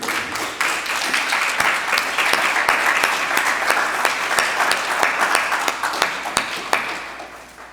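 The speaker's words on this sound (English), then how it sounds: "So we're going to give a big round of applause" A graduation audience breaks into lively, sustained applause, with dense overlapping claps that stay loud throughout and taper slightly at the end.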